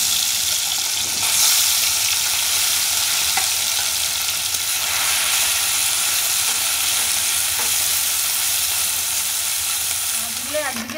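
Small mola fish fry in hot mustard oil in a wok, a loud, steady, dense sizzle filling the whole stretch with faint stirring scrapes near the end.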